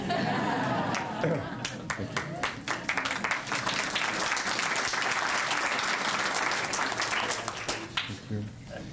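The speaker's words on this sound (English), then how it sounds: "The music students were clapping extra hard for Jean." A crowd of music students claps enthusiastically and continuously at a medal ceremony, a dense burst of applause that tapers off toward the end.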